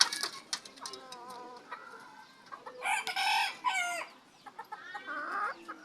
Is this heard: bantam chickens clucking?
yes